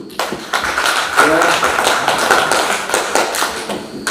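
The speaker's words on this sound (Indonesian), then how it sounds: "Tepuk tangan dulu." A short burst of audience applause in a school hall ceremony, dense uneven clapping with some thuddy taps, fairly loud and close, with a voice briefly heard over it.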